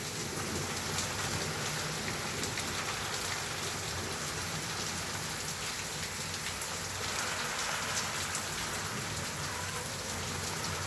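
Steady, dense downpour of heavy rain pattering on surfaces during a thunderstorm, continuous and enveloping with no voices.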